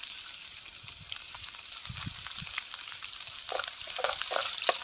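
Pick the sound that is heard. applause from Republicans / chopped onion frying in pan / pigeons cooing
chopped onion frying in pan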